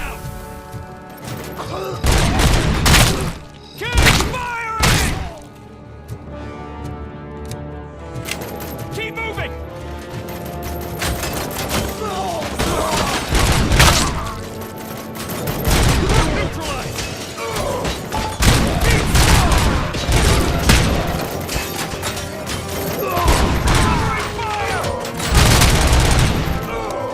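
Gunfire in the video game RoboCop: Rogue City: loud, repeated bursts of shots and booms with mechanical clanks, layered over a game music bed and spoken voices throughout.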